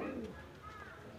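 A white female Jiria pigeon gives a brief, faint coo that slides downward, followed by a softer rising call, recorded close in a quiet indoor space.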